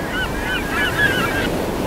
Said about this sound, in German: Über dir kreischen ein paar Möwen